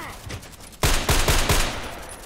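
Gunfire in the Contract Wars shooter game: a soft start, then four sharp, loud shots in quick succession, each with a short ringing tail.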